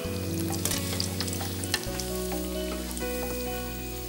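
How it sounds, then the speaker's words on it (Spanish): Potatoes for patatas soufflé fry and puff in a hot pan, producing a loud continuous sizzle with crackles, over a steady background hum. "las pasamos a la sartén caliente y comienzan a suflar"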